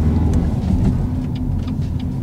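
A learner's car pulls away in first gear during a driving lesson, its engine giving a steady, close rumble with no talking.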